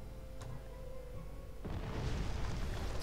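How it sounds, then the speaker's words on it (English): A fortress being destroyed in Age of Wonders 3, a low rumbling crash that swells partway through into a sustained crumbling roar, with a faint tone and tick earlier. "So I took his fortress, and now I'm destroying it"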